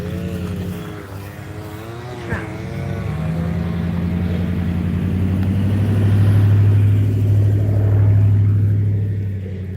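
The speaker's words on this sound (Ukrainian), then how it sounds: "машина, тікай." A car approaches and passes near a rural road by a river, its engine hum building to a loud, close peak and then fading away. A brief sharp knock sounds early on.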